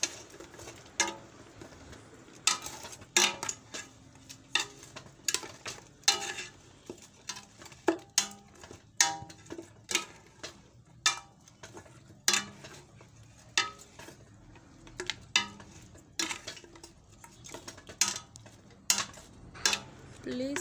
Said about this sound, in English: I will need to stir it